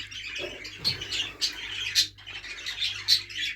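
Budgie chicks in a breeding room give repeated high, scratchy squawks and chirps in short bursts, fairly close, over a faint steady background hum.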